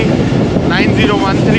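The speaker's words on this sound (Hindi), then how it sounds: "ज़बरदस्त विस्लिंग GU40" A GU40 locomotive hauling the Khyber Mail on a foggy winter run sounds a wavering whistle in short bursts over heavy rumbling train noise and wind.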